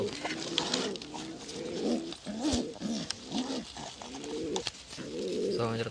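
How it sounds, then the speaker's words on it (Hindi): Newly hatched pigeon chicks close by give soft, repeated cooing calls in a steady run of throaty phrases, with only short pauses between them. "मित्रों कबूतर ना बच्चा थी गया"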